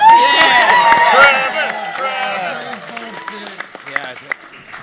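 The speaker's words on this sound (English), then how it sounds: "thank you for the easiest applause line in history" A studio audience at a celebrity Secret Hitler game show breaks into loud cheering and applause mixed with shouting voices, then fades to scattered claps and talk.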